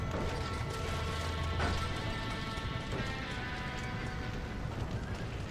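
Horses neighing and whinnying inside a burning barn in the Red Dead Redemption video game, a steady dense roar of fire and commotion running loud throughout with scattered knocks and crashes.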